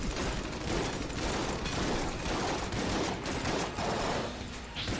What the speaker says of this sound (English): I'm basically just firing it as fast as I can